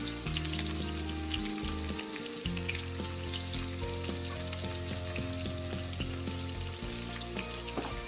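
Baby corn sautéing on a high flame for baby corn manchurian, giving a continuous crackling sizzle with occasional stirring clatter underneath, close and steady throughout.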